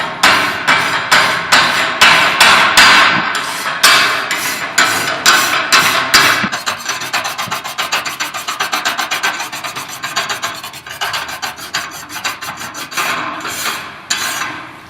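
Metal is cleaned and prepared for welding with rapid, rhythmic rasping strokes that are close and loud. The scraping runs steadily throughout and quickens into faster, denser strokes partway through.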